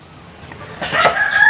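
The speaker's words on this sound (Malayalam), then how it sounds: "2 സൈഡിലും കോഴിച്ചാത്തന്മാർ നിന്ന് കൂടുന്നുണ്ട്" Roosters crow close by at a family home during a carrot harvest, one rising call swelling loud near the end over faint background sound.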